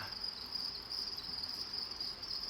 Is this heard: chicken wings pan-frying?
no